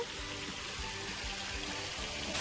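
A water fountain splashes continuously close by, a steady rushing patter of falling water with no speech.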